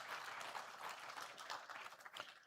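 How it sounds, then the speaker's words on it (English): Audience at an investment conference applauds, a faint, fairly distant wash of clapping that holds steady and then thins slightly toward the end. "Can we give him one more round of applause?"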